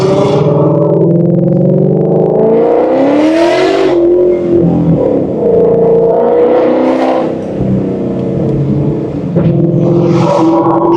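A Shelby car engine roars loud and close at wide open throttle, rising in pitch through repeated revving surges with brief drops between them.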